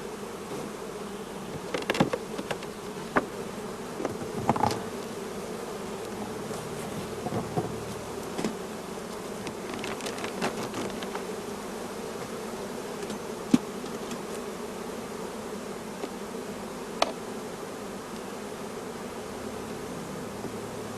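Honey bees buzz in a steady, dense drone around brood frames being moved between hives, with a few louder bees passing close by, and no talk.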